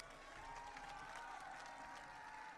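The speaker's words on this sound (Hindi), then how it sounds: "इस रायबरेली की धरती पर जनमानस तालियों से स्वागत और अभिनंदन करता है" A crowd in Raebareli applauding to welcome Rahul Gandhi, steady, dense clapping heard faintly and at a distance, with a faint voice murmuring underneath.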